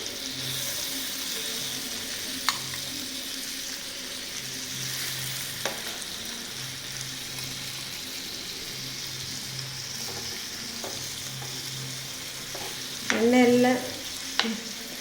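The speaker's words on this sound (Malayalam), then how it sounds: "ഇതിലേക്ക് ഇനി ബീഫിട്ട് ആയിട്ട് മാറിനേറ്റ് ചെയ്ത് വെച്ച ബീഫ് ഓരോ പീസായിട്ട് ഇതിലേക്ക് ഇട്ട് കൊടുക്കുന്നു." Marinated beef pieces for a home-made steak fry in a pan with oil and butter, giving a steady, close sizzle throughout with a few soft clinks and a brief louder clatter near the end.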